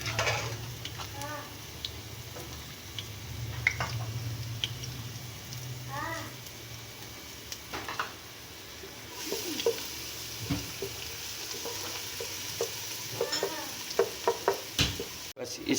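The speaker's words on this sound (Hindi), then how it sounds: "लहसुन डाल के इसको 2 से 3 मिनट भूनेंगे अच्छी तरह।" Chopped garlic sizzling and frying in a hot pan as the first step of a chicken chowmein, a steady crackle with occasional stirring scrapes and clinks of a utensil, fairly close, while someone speaks over it in places.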